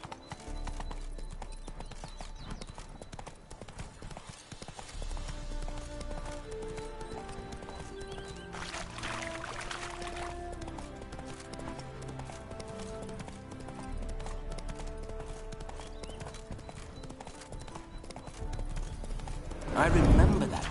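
Hoofbeats of Roach, the horse in The Witcher 3 game, clip-clop steadily at close range, with a whinny, over game music and character dialogue, ending in a louder burst.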